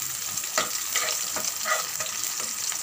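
Chopped onions frying in oil in a pan while cooking taro stems with rohu fish head, a steady close sizzle with soft crackling bursts and occasional stirring scrapes.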